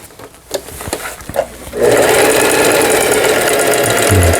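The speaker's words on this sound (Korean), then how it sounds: "이렇게 오버록 바느질" A few soft knocks and taps, then a Singer 4423 sewing machine starts overlock stitching and runs steadily with a fast, whirring mechanical rattle up close.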